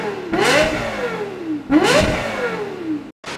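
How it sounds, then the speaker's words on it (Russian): A Lexus LFA supercar in GTA 5 revs hard twice, each pull climbing sharply in pitch and then easing back down with a loud, close exhaust note. A brief cut near the end is followed by another burst of engine sound. "Lexus LFA это самый красивый звук суперкара"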